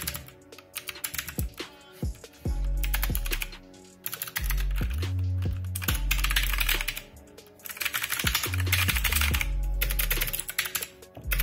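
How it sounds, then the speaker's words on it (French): Rapid typing on a mechanical keyboard with Cherry MX Blue clicky switches, sharp, clicky keystrokes in quick bursts, close up, separated by brief pauses. "c'est des Cherry MX Blue, donc c'est des switches à clic"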